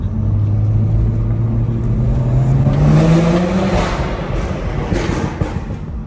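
A 2020 BMW M340i with a catalyst downpipe, running an E40 fuel mix, accelerates hard through a tunnel, its loud engine note climbing steadily in pitch as the sound echoes off the walls, with no talking.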